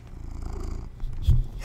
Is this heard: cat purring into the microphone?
yes